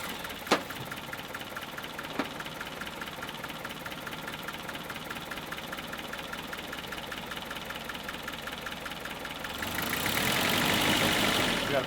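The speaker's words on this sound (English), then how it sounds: "We got a pretty bad leak from the exhaust" A 1948 Willys Jeep engine idles with a bad exhaust leak, giving a steady, rhythmic ticking chug close by, with a couple of sharp knocks early on and a louder hiss of revving or rushing noise near the end.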